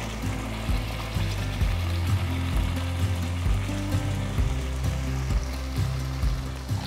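Ground onion paste frying in oil with cumin seeds and a bay leaf in a pan for a bottle gourd kofta curry, a steady close sizzle with bubbling and crackling throughout, no voices.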